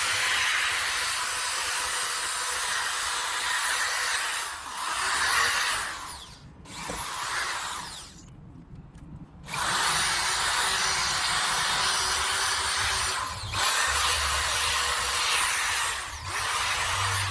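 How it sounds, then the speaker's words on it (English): A power sander whirs steadily with a harsh, hissing grind on plastic Subaru Crosstrek headlights, pausing briefly twice before resuming at an even, loud level. "we did a lot of sanding on the 2 headlights"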